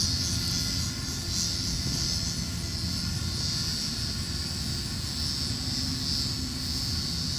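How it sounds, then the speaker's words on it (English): A steady, droning aircraft engine hums continuously at a distance, with a high whine on top and no clear approach or fade. "I hear an airplane coming"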